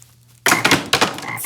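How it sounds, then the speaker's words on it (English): Frogs croaking in a children's retelling of the plague of frogs, loud close bursts of ribbed croaks following a quiet hum, two strong calls with short gaps between them. "God is gonna send frogs."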